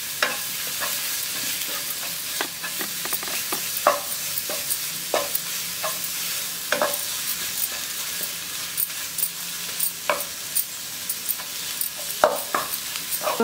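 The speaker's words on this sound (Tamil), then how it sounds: "இதிலே சேர்த்து நம்ம வதக்கும் போது" Quail meat and spices sauté in a frying pan with a steady, close sizzle, while a utensil scrapes and stirs in irregular knocks and clinks against the pan throughout.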